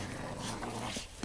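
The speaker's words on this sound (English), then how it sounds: "Growling on both sides of the field." Boston terriers growling and whimpering in a tug-of-war match, low rumbling dog sounds with faint yips blended into a dense, noisy background.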